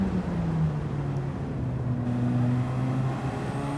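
Radical Cup race car on track, heard as a steady, loud engine drone with shifting pitch as it runs down the start-finish straight.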